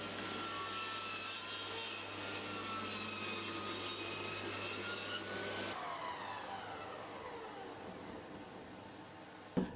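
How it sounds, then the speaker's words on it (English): A saw cutting through a piece of oak, a steady, continuous grinding rasp with a whining motor tone, fairly faint and even, changing pitch partway through and winding down toward the end. "So I have a piece of oak and I'm going to get it cut to the width of my wallet."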